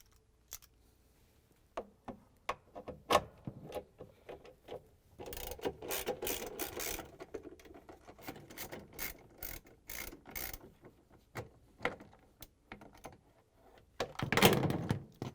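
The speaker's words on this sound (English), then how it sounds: "It has 3 3/8 bolts that we're going to take out using the socket wrench." Socket wrench ratcheting out 3/8 bolts from the cover of a GE washer, bursts of quick metallic ratchet clicks with pauses and clunks between them, close and quiet.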